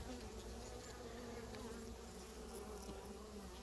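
Honey bees buzz steadily around an old queen in a hive, a dense continuous drone held at close range with no talking.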